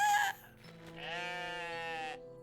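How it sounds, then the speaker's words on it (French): A single drawn-out goat bleat, close and clear with a wavering tone, from the video game OneShot. "Oh, ils font des bruits de chèvres."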